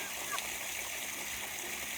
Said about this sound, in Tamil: எப்போவுமே மோட்டார் போட்டு விட்ட உடனே வாத்து எங்கே இருந்தாலும் வந்து தண்ணியில் விளையாட ஆரம்பிச்சிருங்க